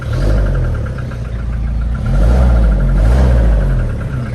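A van engine idling steadily nearby, a low rumbling hum with a slight swell in the middle, no talking.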